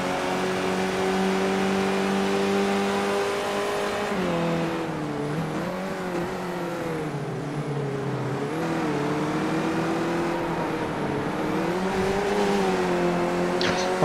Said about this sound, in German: Und wir hören auch schon den Motor von Matuschinski im Hintergrund.